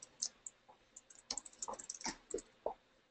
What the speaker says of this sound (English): you were wondering what I was typing